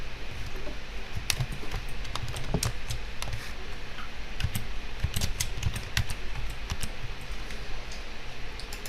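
Close, steady typing on a computer keyboard while a job form is filled in, a quick uneven patter of key clicks over faint room hum, and nobody talks.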